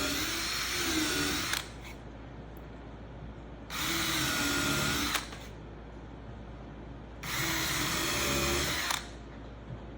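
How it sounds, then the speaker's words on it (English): A power drill drives small screws into wooden transom cheek pieces during wooden boat building, three separate loud whirring bursts of about one and a half seconds each, with short quiet gaps between them. "We're just going to put a few little screws in here."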